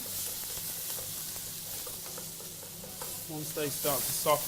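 Sliced peppers sizzle and get stirred in a Dutch oven set on a Weber Spirit II E-310 gas barbecue, a steady frying hiss with scraping stir strokes toward the end.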